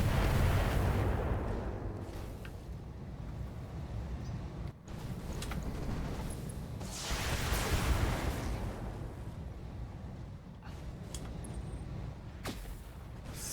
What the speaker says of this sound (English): That's a lot of missiles.